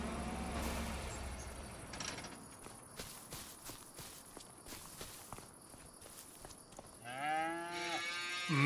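Cows in a farming video game moo, starting with low bellows and ending in a loud, drawn-out moo, with footstep-like taps and faint mechanical clicks underneath.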